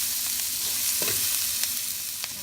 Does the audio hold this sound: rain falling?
no